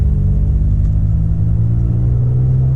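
A Toyota Tacoma pickup truck pulls away and accelerates, its engine giving a loud, steady low rumble that climbs slightly in pitch, close up with no talking.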